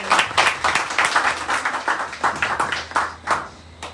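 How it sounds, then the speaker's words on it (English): Audience applause at a Rotary Club of Portsmouth, Dominica investiture ceremony: many hands clapping steadily for four seconds, fairly close and moderately loud, with a low hum beneath. "Give the club a round of applause."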